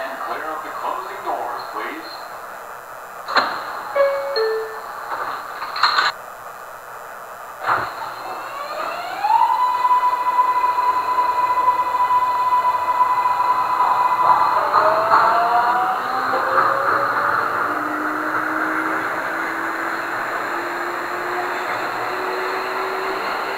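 Queensbound 9 local subway train in the OpenBVE simulator, running with a rising electric motor whine that settles into a steady tone, then fades under a sustained rumble; brief clunks early on, with a voice speaking over part of it.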